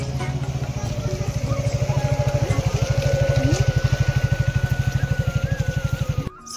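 A motorcycle engine chugs steadily with a rapid pulsing rhythm, revving slightly as it rides along a muddy road, close and loud before cutting off at the end.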